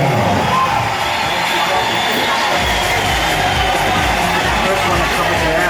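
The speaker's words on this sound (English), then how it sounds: "I want to hear from applause for Miss Sarah Blanchard." Audience at a Miss San Mig Light beauty pageant in a hotel in Angeles City cheering and applauding a contestant, a loud, steady wash of crowd noise with shouts rising through it throughout.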